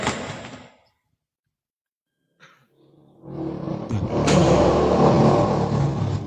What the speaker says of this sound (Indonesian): Ada mobil lewat lah.